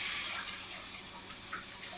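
Kitchen tap running steadily while hands are washed, a continuous close hiss of flowing water with no talking.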